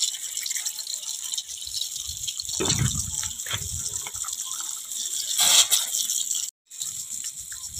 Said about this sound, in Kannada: ನಮ್ಮ ಕಾರಂಜಿ ಮತ್ತು ನೀರು ಬರಾಕತ್ತೈತಿ ಇಲ್ಲಿ